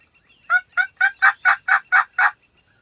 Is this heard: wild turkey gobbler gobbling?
yes